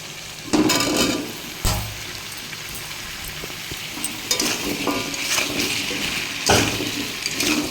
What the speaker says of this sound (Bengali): আলু দিয়ে দিয়েছি চিংড়ি মাছটাও দিয়ে দিয়েছি একটু ভাজা ভাজা হচ্ছে